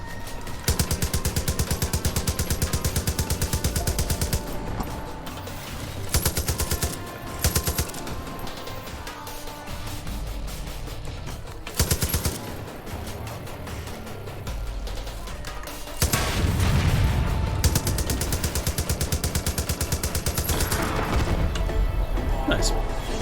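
A mounted gun firing in Far Cry 5, loud sustained bursts of rapid automatic fire broken by short pauses, with booms and mechanical clatter. A voice talks over parts of it.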